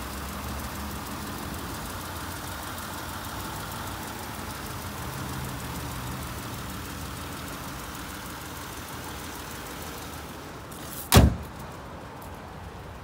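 Stock, original 3.2-liter Honda V6 in a 1991 Acura Legend coupe with a five-speed idles steadily and smoothly throughout, a low continuous hum with one brief sharp knock near the end.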